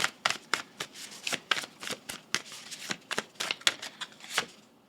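Tarot cards being shuffled and drawn: a quick series of crisp riffling flicks and slaps, about two or three per second, close and moderately quiet, with no talking.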